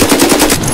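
Rapid burst of machine gun fire in the video game Escape from Tarkov, about ten close, loud shots in quick even succession with no talking over them.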